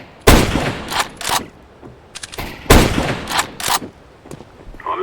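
Rifle gunfire in the shooter game CS:GO, played on the Lake map: sharp loud shots in two clusters of bursts with short gaps, close and dominant, with no talk.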